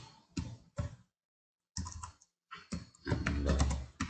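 Someone types on a computer keyboard, with short bursts of clattering keystrokes separated by a clear pause, then a denser, louder run of typing close by.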